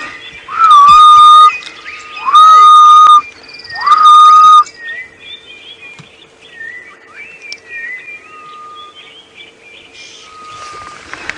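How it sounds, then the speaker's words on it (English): Three loud, drawn-out whistled calls of a grey-headed bushshrike ring out close by, evenly spaced, followed by softer scattered chirps in a quiet outdoor setting on a morning safari drive. "And you've got the ghost bird, the grey-headed bushshrike."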